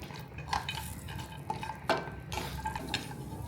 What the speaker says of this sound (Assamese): ইয়াতে কাজুখিনি দি দিছোঁ। মই ৰঙচুৱা হোৱালৈকে এইখিনি ভাজি ল'ম।